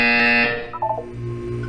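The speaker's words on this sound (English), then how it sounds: "You will hear a buzzer." A buzzer sounds in Portal 2, a harsh sustained electronic tone that cuts off after about half a second, followed by a few softer electronic blips and a low hum.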